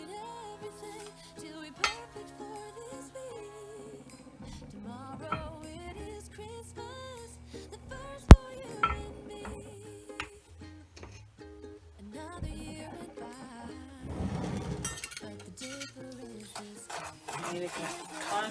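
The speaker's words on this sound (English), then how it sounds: "You need to constantly stir this" Sugar stirred in a pot for English toffee, with a spoon scraping and clinking softly against the metal under ongoing talk and background music.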